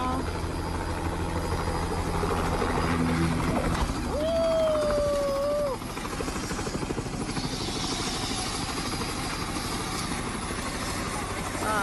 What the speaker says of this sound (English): This is what a helicopter hard landing looks like.